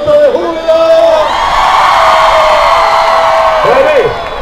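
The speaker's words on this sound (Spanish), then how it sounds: "grito de júbilo" A crowd at a church association festival lets out a loud, sustained cheer of whoops and yells lasting several seconds, dense and close, with voices rising and falling together.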